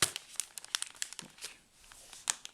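Crinkling of a plastic military ration bag being pressed shut, several sharp crackles and rustles in quick irregular bursts, close by and fairly quiet.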